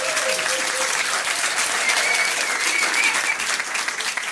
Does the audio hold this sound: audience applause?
yes